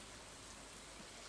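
Steady rain in the farming game Stardew Valley, an even, continuous hiss of falling drops with no change in level and no voices.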